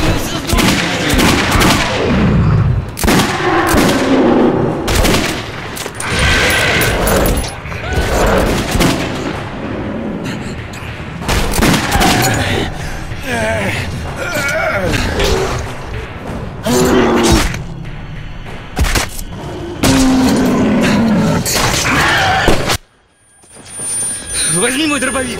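Loud gunfire in the Metro 2033 Redux video game: repeated heavy shots and bursts with thuds and booms go on for most of the stretch, while panicked voices shout over the shooting.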